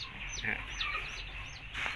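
Newly hatched baby chicks just out of an incubator give a few high, thin, descending peeps at close range, spaced irregularly over a soft background hum.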